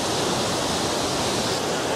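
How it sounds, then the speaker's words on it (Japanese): Jōren Falls in Izu, a waterfall pouring as a dense, steady roar of rushing water, loud and unbroken throughout with no other sounds. "これが常連の滝です。"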